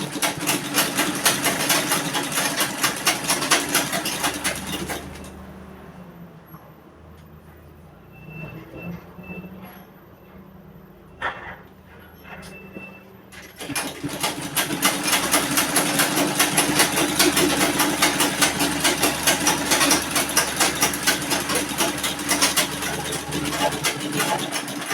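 A sewing machine stitches a crop top seam with a fast, steady mechanical whir and rapid needle chatter. It runs in long bursts with a quieter pause in the middle.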